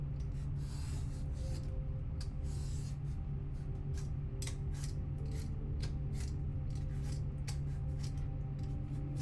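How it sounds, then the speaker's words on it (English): A butternut squash is peeled down past the green ribs of its skin, giving repeated short scraping strokes in irregular bursts over a steady low hum, close and fairly quiet, with no talk. "peel down all the way past these green ribs that are on the outside of a butternut squash"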